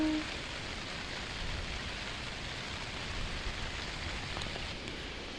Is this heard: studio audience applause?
no